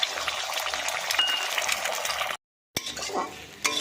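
An egg fries in hot oil in a wok, a crackling, bubbling sizzle up close, briefly cut by a gap, then resuming with a few light metallic clinks.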